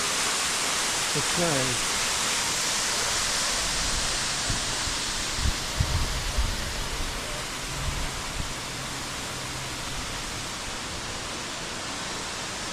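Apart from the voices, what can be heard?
waterfall in Goldstream provincial park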